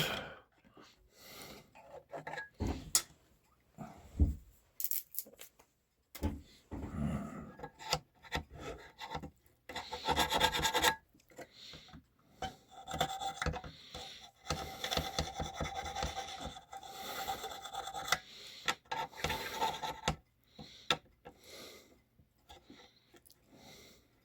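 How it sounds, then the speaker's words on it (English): Quiet, irregular scraping and rubbing of a wooden dowel worked into the holes of brass cuckoo clock parts to clear out gunk, in short uneven strokes with brief pauses, close and alone. "I'm going to take a dowel and clean up the holes."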